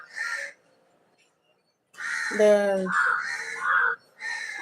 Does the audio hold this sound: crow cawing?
yes